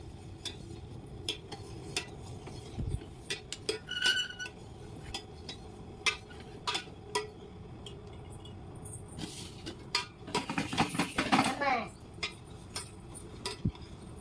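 Utensils clinking against a bowl while gulab jamun ingredients are mixed, with scattered light taps and a denser burst of scraping and clatter partway through, faint and close.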